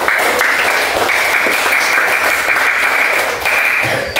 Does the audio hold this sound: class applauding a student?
yes